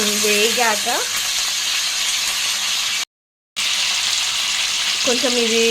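Curry leaves and green chillies crackle in hot oil for a fish curry, a loud close sizzle with a brief gap in the middle and short tonal whines near the start and end.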